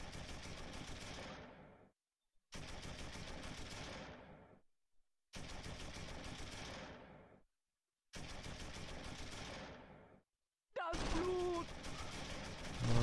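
Machine gun fire in the World War II strategy game Close Combat 3: The Russian Front, four long sustained bursts separated by short pauses, then a final burst mixed with other battle sounds.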